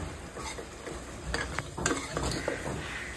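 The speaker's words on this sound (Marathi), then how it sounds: "वाटणाला पण मस्त अशी तरी येईपर्यंत फ्राय करून घ्यायचं, मस्त एकजीव करून घ्यायचं" Ground spice paste frying in a pan for a village-style country rooster curry, a soft crackling sizzle broken by scraping stirs and a few sharp clicks, heard close with no voices.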